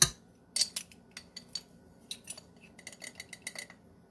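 A teaspoon clinking against a bowl while cinnamon is measured in, a series of light, close metallic taps and scrapes in irregular bursts, with quiet gaps between them.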